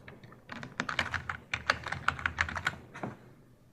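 Quick keystrokes on a computer keyboard, a close, soft run of irregular clicks lasting about three seconds.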